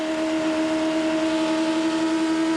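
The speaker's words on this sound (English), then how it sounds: "Listen to the engine." Auscar race car engine at Calder Park Thunderdome, a steady loud drone with strong sustained tones, as from a car passing at speed or held at high revs on the oval.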